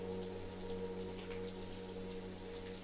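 Steady rain falls throughout, a dense, even patter on surfaces with a faint constant hum beneath, soft and unbroken.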